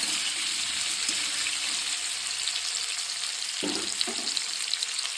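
Amla (Indian gooseberries) fry in a pan with dried chillies and five-spice tempering, a constant bright hiss of sizzling oil with a few soft knocks of stirring near the end, close and unbroken.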